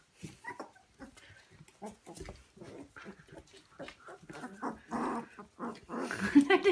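Two-week-old Siberian husky puppies growl, squeal and grunt as they play-fight, a busy run of small close-up vocal bursts that grows louder toward the end, with no talk.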